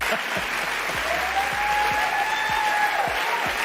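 A comedy show audience applauding a stand-up routine, a steady dense wash of clapping from a large crowd, moderately loud and continuous, with a low voice faintly underneath.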